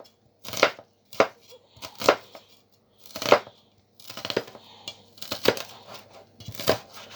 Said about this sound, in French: vous prenez votre oignon, vous le découpez en deux et vous le ciselez finement